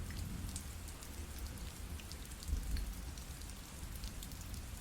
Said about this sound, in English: Rain's tapping away at the awning